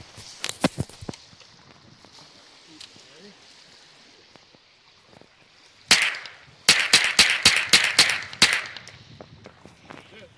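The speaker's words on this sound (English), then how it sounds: "My dad's going to shoot now, okay?" Sharp outdoor gunshots crack in a quick cluster, a few near the start and then a rapid volley of loud reports in the second half, with quiet stretches and faint sounds between them.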